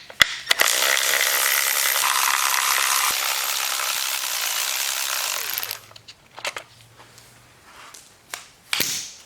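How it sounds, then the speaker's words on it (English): A power tool whirs loudly for several seconds while bolts are removed from the linkage on an OM617 diesel engine, then stops, followed by scattered metallic clicks and clanks of tools. "We need to start by removing these bolts in order to remove the linkage and get it out of"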